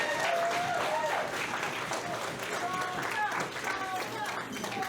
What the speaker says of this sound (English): you should be clapping loud and loud and loud.